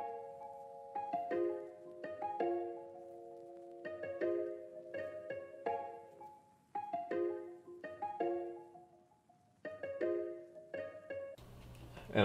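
A sampled melodic loop for a bouncy trap beat plays alone: clean, bell-like chords and short note runs repeating in a steady bouncing pattern, ending in a brief burst of noise.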